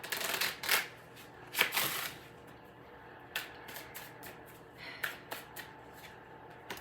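A deck of tarot cards is shuffled by hand in a quiet room, a few crisp riffling bursts followed by softer, scattered card taps and slides.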